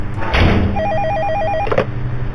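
A telephone rings in the FNAF-style horror game Night Watch at Freddie's, a loud electronic trilling ring sounding once, with a door-like thud near its start and another near its end.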